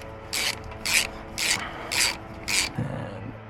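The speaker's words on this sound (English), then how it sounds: "And spindle nut going on." A spindle nut is threaded by hand onto a boat trailer's rear hub and rotor: five evenly spaced rasping, scraping bursts over a low background hum, close and fairly loud.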